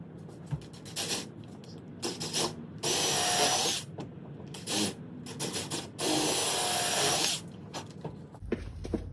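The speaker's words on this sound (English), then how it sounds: "grab an 11/64 pilot and just drill straight through into the wood" A power drill whirs in two sustained bursts as an 11/64 bit bores a pilot hole into the wood of a door, with shorter grinding spurts and rubbing noises between them, close up.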